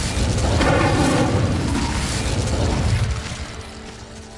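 Incendio fire spell cast in Hogwarts Legacy on PS5, a loud whooshing burst of flame that swells, holds for a few seconds, then fades out.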